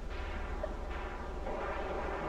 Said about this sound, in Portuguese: As explosões atômicas.